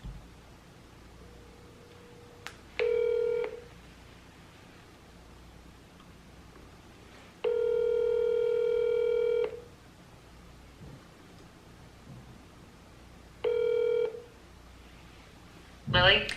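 A phone call being placed to a client: three separate steady electronic ringback tones sound over a faint hiss, followed by a brief rustle at the end, with no talking.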